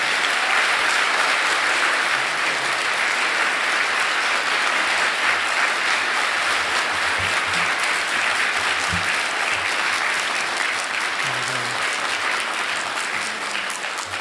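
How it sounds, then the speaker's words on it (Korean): Congregation in a church applauding to welcome the pastor to the pulpit, a dense, steady wash of clapping that holds at even loudness throughout and tapers slightly at the end. "우리 사랑, 감사, 격려, 축복의 박수로 환영해 주시기 바랍니다"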